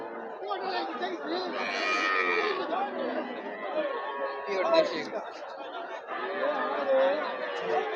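A crowded cattle market: busy human chatter fills the air, and occasional cattle moos rise from the crowd at moderate distance.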